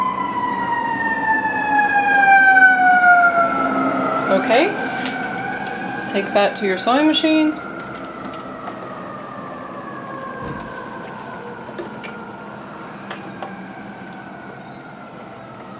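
A wailing city siren slowly descends in pitch in the distance, fading gradually, while a person speaks briefly in the foreground.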